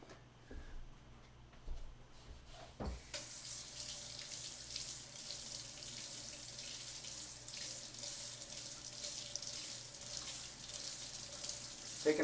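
Hot water from a kitchen tap gushes steadily into a sink, starting after a few seconds of quiet clatter and then running continuously and fairly loud at close range.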